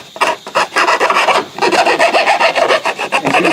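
A medium-to-fine flat file rasps along a wood edge to take off cut brad ends, rapid close scraping strokes in a steady back-and-forth rhythm, loud and alone.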